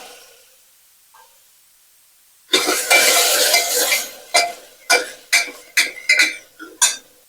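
Bisi bele bath with jaggery and tamarind being stirred in a pot, a quiet start, then a long burst of spoon scraping followed by a series of separate knocks and scrapes against the pot, close by.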